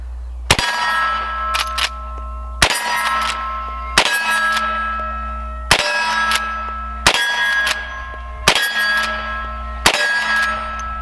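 Seven sharp shots from a Henry .357 lever-action rifle ring out at irregular intervals, each a loud crack followed by a bright ringing clang from a struck steel target that decays over about a second; no voices.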